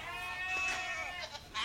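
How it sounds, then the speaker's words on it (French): Goats bleat on a goat cheese farm in a short burst of a few overlapping, wavering calls, moderately close but fairly soft. "Vous êtes en compagnie de vos petites chèvres là? Je les entendais de loin déjà."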